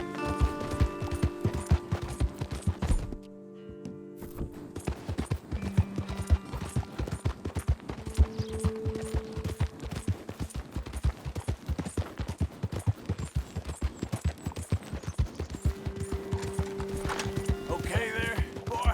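Horse hooves gallop in Red Dead Redemption 2, a steady rapid clip-clop rhythm running throughout at moderate loudness, with a brief pause near the start and some background game sounds.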